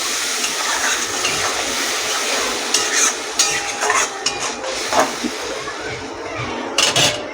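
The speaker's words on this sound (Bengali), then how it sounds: "একটু জল দিয়ে আমি 2 মিনিট একটু ঢাকা দিয়ে মশলাটাকে আর একটু কষে নেব" Spice masala for a hilsa and elephant-foot yam curry is stirred and fried in a pan, with a steady close sizzle broken by scraping spoon strokes and a few louder clatters near the end.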